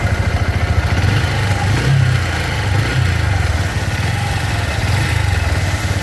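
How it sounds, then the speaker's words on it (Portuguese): A Haojue Master Ride 150 motorcycle idles close by, its engine holding a steady, loud, even rumble with a slight pulsing throb and no revving. "Vou dar uma ligadinha aqui só para poder ver também o ronquinho do motor"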